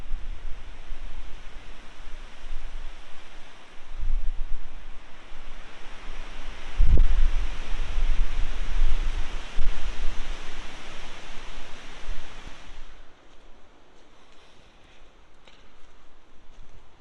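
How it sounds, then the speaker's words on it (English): Extremely strong wind before dawn in the Cotswolds countryside, a broad, roaring rush that swells and buffets the microphone in gusts, easing somewhat toward the end, with no talking. "it is before dawn and it is extremely windy"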